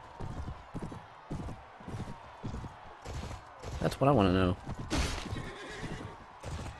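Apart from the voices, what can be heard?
horse galloping and neighing in Mount & Blade: Warband video game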